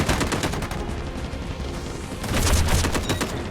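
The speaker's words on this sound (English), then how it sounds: "Artillery barrage incoming." Artillery barrage in the mobile shooter game Delta Force Mobile: a dense run of loud, overlapping blasts and gunfire-like cracks. It swells heavier toward the end, with no talk.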